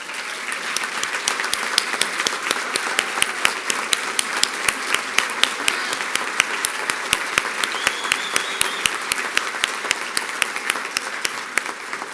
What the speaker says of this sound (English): we could give them all a round of applause